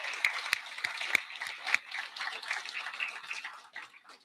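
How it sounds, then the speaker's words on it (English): Audience applause at a game-design conference talk, a steady wash of many hands clapping that rises and thins out over about four seconds, with a few sharper claps standing out near the front. "if we could please also just get a round of applause for the team working behind Develop"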